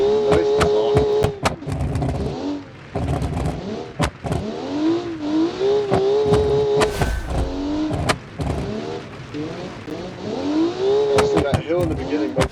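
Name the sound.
racing cars driving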